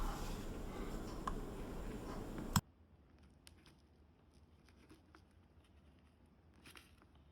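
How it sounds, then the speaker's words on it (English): Air line tubing for a 1951 Ford shoebox air bag install is cut with the small cutter from the kit: one sharp close snip ends a steady rushing background, followed by faint scattered ticks. "So we cut it with this little tool that came with the kit"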